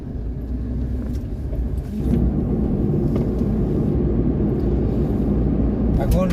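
Car engine droning steadily on a night road trip from Hooghly toward Assam, with a low continuous rumble that grows slightly louder partway through; faint voices murmur under the road noise.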